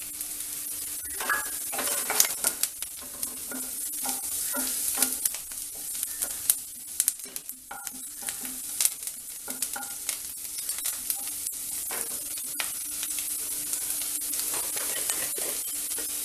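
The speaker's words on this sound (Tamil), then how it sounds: "கேரட் வந்து இந்த எண்ணெயிலேயே வதங்கிடும்" Steady sizzling of carrots frying in hot oil for wheat rava upma, with occasional stirring scrapes and clicks from a spoon in the pan, close and continuous.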